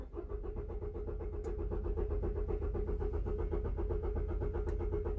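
A car engine with a faulty Delphi injection pump runs in a rough, rapid, uneven pulsing chug at low volume, with no voices over it.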